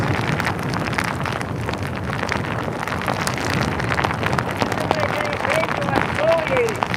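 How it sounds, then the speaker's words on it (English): Heavy rain from Hurricane Ian pelting steadily in the streets of St. Augustine, Florida, with gusty wind noise buffeting the microphone throughout, loud and continuous. "that's painful rain hitting right now"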